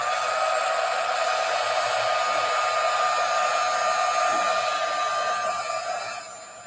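A hair dryer runs steadily at close range while drying a watercolor painting, a loud constant whoosh and whine that tapers off as it is pulled away at the end.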